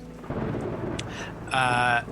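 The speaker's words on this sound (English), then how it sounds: "the storm above continues to rage, and you can see rain begins to strike" A thunderstorm with heavy rain, a loud rumbling roll of thunder and a burst of bright noisy crackle near the end, short and close.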